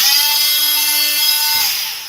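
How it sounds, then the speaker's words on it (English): A Flex oscillating multi-tool with a Flex blade cuts into a wooden plank, a steady high whining buzz running loud and close for most of the moment before trailing off at the end. "And we'll use the multi-tool on this one. I like the Flex multi-tool."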